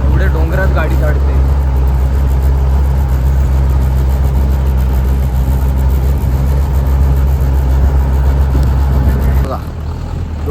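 A vehicle's engine hauls up a steep mountain road toward a hill fort in the dark, about 700 m up. A loud, steady, low drone runs throughout with voices talking over it, then drops away abruptly near the end.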